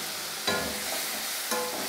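Spice paste of chili powder, turmeric and water frying in a pan, a dense continuous sizzle with two brief bursts where it is stirred.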